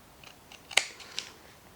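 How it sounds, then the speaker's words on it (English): Scissors trimming paper around the edge of a notebook: a few soft snips, one sharper cut standing out, close and quiet in an otherwise still room. "I'm just going to get a pair of scissors and trim right around that side of that notebook"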